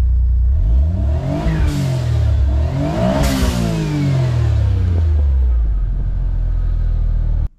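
A Suzuki DOHC F6A engine revs hard in two rising, falling bursts, tested for a working blow-off valve, close and loud, with a sharp whoosh at each peak before the sound cuts off abruptly.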